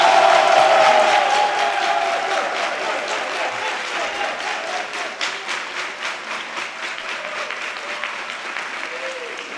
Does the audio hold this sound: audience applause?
yes